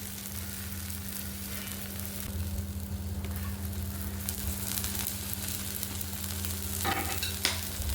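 An oats mixture fries in a pan and gets flipped, giving a continuous close sizzle over a low hum, with a brief scrape and tap of the spatula near the end.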